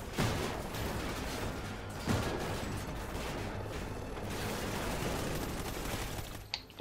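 Gunfire in the Call of Duty: Ghosts campaign, a dense ongoing barrage with sharper shots at the start and around two seconds, mid-distance and steady.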